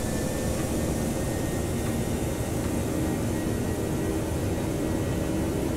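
Airliner engines spooling at takeoff thrust in the Prepar3d simulator, an American Airlines flight out of Las Vegas, heard as a loud, steady broadband roar with a faint whine that holds constant throughout, with no talking.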